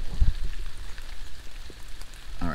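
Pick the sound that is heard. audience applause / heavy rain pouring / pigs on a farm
heavy rain pouring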